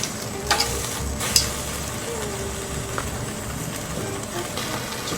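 Salted wagyu beef searing over a gas stove flame, giving a steady sizzling hiss with a few sharp clacks and crackles near the start, close and fairly loud, without talk.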